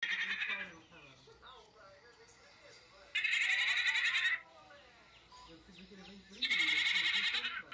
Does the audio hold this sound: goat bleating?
yes